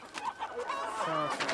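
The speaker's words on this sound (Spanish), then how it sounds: "No es nada fácil atrapar a una gallina en libertad" A free-range hen clucks and squawks in agitation while someone tries to catch it, with a run of close, loud, uneven calls and some handling noise.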